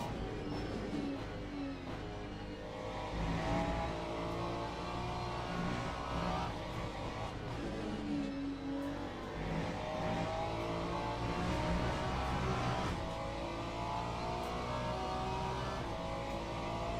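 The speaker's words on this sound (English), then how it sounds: "I think I'm letting it rev out a bit too much." A GT3 race car engine at Sebring in Le Mans Ultimate revs hard and steadily through the gears, a loud continuous drone rising and falling with each shift, with no talk over it.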